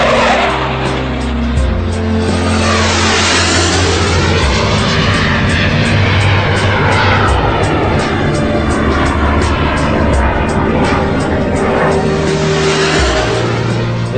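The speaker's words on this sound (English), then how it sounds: "This is exactly where all new Sukhoi planes are tested" A Sukhoi fighter jet at a test airbase roars loudly and continuously for the whole stretch, its engine tone sweeping up and down as it passes close by.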